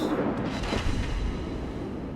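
A heavy naval gun salvo from the British battleship HMS Vanguard in World of Warships booms out as a dense, low rumble that rolls on for a couple of seconds.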